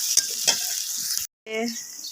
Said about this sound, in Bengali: পেঁয়াজটা নাড়াচাড়া দিতেছি একদম ভাজা ভাজা করতে হবে